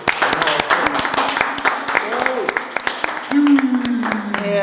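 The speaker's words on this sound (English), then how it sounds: "Can you give him a round of applause?" A small studio audience applauds a guest during a podcast recording, scattered sharp claps running throughout while voices and a rising vocal tone sound over them.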